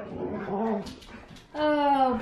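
Puppies whimper and whine in short, high, tonal cries, one burst near the start and a louder, sustained whine near the end, close by with faint voices in the background.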